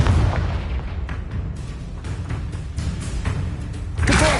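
The Confringo blasting spell in Hogwarts Legacy sets off loud, booming explosions that roll in a continuous rumbling barrage with repeated bursts. A heavier blast surges at the very end.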